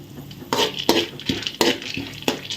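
Cashews and raisins roasting in a pan over low heat for rava laddu, with a spoon repeatedly scraping and clinking against the pan in a loose rhythm, close and fairly loud, with no talk.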